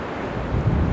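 Strong wind of about 35 mph, with gusts near 40 mph, blasts across a microphone in a Nebraska river bottom, a rough, rumbling roar that swells louder near the end of the brief second.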